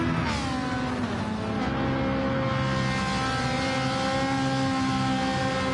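A Gran Turismo race car engine, one of the Gr4 field at Goodwood, drones steadily down the back straight, loud and sustained with a rising pitch and no voices.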